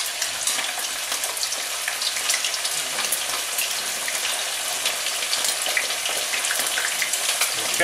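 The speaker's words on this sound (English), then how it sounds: "What we're gonna do now is drop them in our oil about 5 minutes on each side" Bacon frying in hot oil at around 350 to 375 degrees, a steady loud crackling sizzle with dense popping that never lets up.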